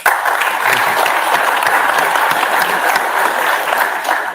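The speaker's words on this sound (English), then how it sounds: "I think that calls for an applause." A dense, steady wash of audience applause at a political address about the quantum mission in Amravati, loud and continuous throughout with no voice over it.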